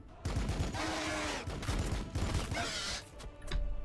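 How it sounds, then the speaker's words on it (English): Gunfire from the Warhammer 40,000: Battlesector strategy game: dense rattling bursts of automatic fire and explosions that run almost continuously, fairly loud, with a few louder surges. "And then I guess we'll shoot at these gargoyles."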